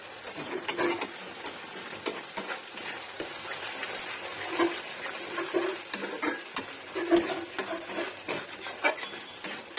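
Fried potatoes and spices being stirred in a pan, with repeated spatula scrapes and clinks over a gentle sizzle, close and continuous without talk.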